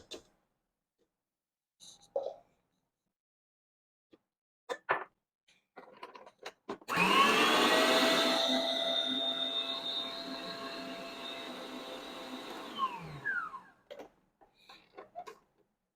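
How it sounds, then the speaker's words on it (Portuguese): An electric stand mixer whips chilled whipped cream with powdered milk, its motor whirring steadily for about six seconds before winding down, with scattered clinks and small kitchen knocks around it. "Vou colocar aqui na batedeira, junto com o leite em pó, aquele restante que a gente deixou reservado."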